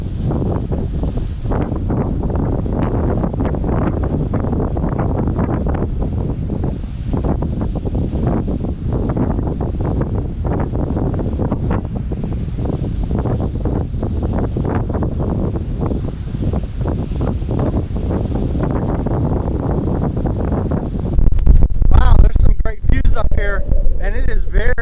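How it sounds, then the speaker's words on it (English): Strong wind gusts across the microphone at a lake observation deck, making a loud, continuous rumbling buffet that runs the whole time, with a person talking over part of it. "And it is very, very windy."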